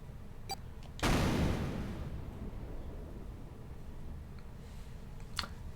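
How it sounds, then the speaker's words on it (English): A video game explosion from 999: 9 Hours, 9 Persons, 9 Doors bursts out suddenly, loud and broadband, then rolls off into a long rumbling decay over low ambient background, with a faint click near the end. "The explosion rocked the room."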